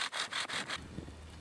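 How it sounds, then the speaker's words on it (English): A bow drill is worked back and forth for friction fire starting outdoors, five quick rhythmic wooden rasping strokes close by, then a low hollow rumble as the motion stops. "I was able to do other things like practice my bow drill technique"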